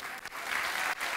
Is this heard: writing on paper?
no